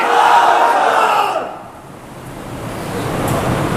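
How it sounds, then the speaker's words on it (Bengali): A crowd at a religious gathering in Keraniganj, Dhaka chants the takbir slogan in a loud, massed roar. The chant swells, dips briefly, then rises again. "মুমিনেরা স্লোগান দিতে চাই লিল্লাহি তাকবীর, লিল্লাহি তাকবীর"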